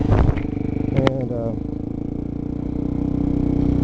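A supermotard, a dirt bike fitted with sport-bike suspension, is ridden on a Hawaiian road; the engine drones steadily and close up with a sharp rev and rising pitch near the start, then a constant running hum.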